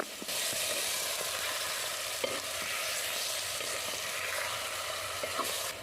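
Chicken marinated in ginger-garlic paste hits a hot handi pot with loud, continuous sizzling and stirring, close up, punctuated by a few soft scrapes and taps of the spoon.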